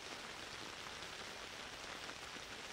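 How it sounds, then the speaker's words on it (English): Raindrops fall in a faint, even hiss of light rain that stays soft and distant for the whole moment, with no voices. "the sounds of raindrops begin to fade out of earshot"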